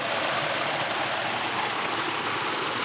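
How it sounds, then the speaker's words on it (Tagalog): Water from a stream runs through a waterway in a steady, dense rush, close by and continuous, with no voices over it. "Yun ang agusan ng tubig."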